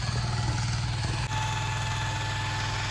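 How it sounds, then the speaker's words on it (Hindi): A tractor engine runs steadily in a nearby field in the Konkan countryside, a continuous low drone with a constant hum, unbroken apart from one brief dip. "वहाँ पे खेत है, तो वहाँ पे वो ट्रैक्टर चलाते हैं ना, उसका नॉइज है ये"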